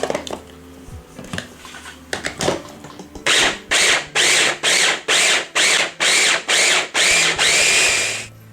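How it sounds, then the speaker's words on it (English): A food processor dicing bacon, run in about nine short, loud pulses in steady rhythm after some clattering setup sounds, with no talking. "Now I've also got some bacon I'm going to do separately in the food process as well."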